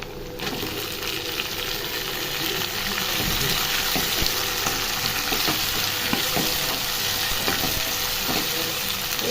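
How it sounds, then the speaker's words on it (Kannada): Chopped tomato sizzles and fries with browned onions in a pan for a hotel-style cauliflower fry, a steady loud crackle broken by several clinks and scrapes of a stirring spoon. "ಈರುಳ್ಳಿ ಬ್ರೌನ್ ಕಲರ್ ಬಂದಿದೆ ಅದಕ್ಕೆ ಸ್ವಲ್ಪ ಟೊಮೊಟೊ ಹಾಕ್ಕೊತಾ ಇದ್ದೀನಿ ಕಟ್ ಮಾಡಿರೋದು"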